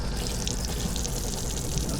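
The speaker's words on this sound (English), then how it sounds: "I'm just gonna go ahead and turn on the water." Water runs at low pressure from a campervan's outdoor shower, making a steady, close, continuous hiss and splash with no talking.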